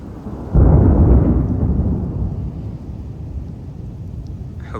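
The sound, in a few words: thunder from lightning storm in Houston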